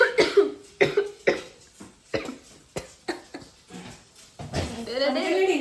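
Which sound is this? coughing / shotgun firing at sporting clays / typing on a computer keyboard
coughing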